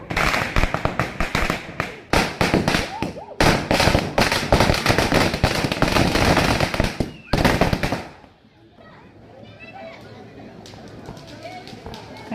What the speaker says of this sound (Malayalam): കണ്ടോ, ഇങ്ങനെ മിനിറ്റിന് പടക്കം പൊട്ടിച്ചോണ്ടേ